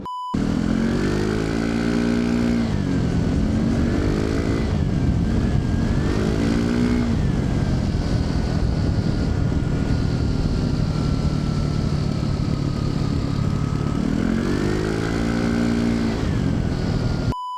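A Kymco RTS R 165 scooter at full throttle drones loudly and continuously, its engine pitch sweeping up in repeated surges and then holding a high, strained tone, heard close from the rider's position.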